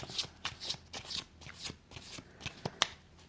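Tarot cards being shuffled by hand, a quick series of soft riffling flicks and slaps in an uneven rhythm, close and fairly quiet, with no voice over it.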